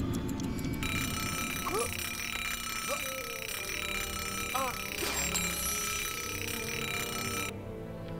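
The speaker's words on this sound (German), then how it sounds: "das ist ein Hardcore-Wecker" An alarm clock in LEGO Harry Potter: Die Jahre 5-7 rings with a loud, sustained metallic bell clatter for several seconds, cutting off abruptly near the end, over game background sounds and someone talking.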